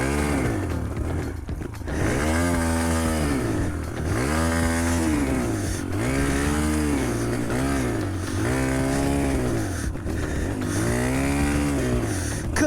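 A cheap dirt bike engine revs hard in repeated rising and falling surges while the clutch slips, a close, loud, strained buzzing that swells and drops roughly every two seconds.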